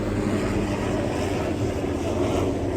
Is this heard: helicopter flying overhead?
yes